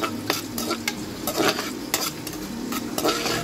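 Oil sizzles steadily in a pan while a utensil stirs and scrapes repeatedly, close and fairly loud, as laddu ingredients are fried.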